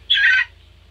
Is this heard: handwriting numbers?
no